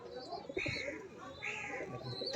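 A pigeon coos softly at a pigeon loft in a few low, throaty phrases against a steady noisy background.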